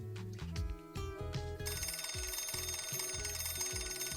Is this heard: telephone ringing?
yes